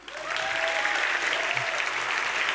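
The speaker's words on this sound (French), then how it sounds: "On applaudit très fort Louis." An audience at a national science-communication final at ULB applauds a contestant, dense clapping swelling quickly after a soft start and staying steady, with a faint whistle or cheer on top.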